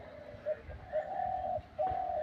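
A pet pigeon cooing softly in a few drawn-out calls, fairly faint against quiet background noise.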